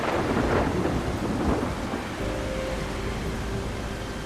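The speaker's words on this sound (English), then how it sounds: "now there's a storm and I can't see nothing" A thunderstorm in the video game Solarpunk: dense, loud rain with a rolling thunder rumble, continuous and close, with a faint steady tone beneath.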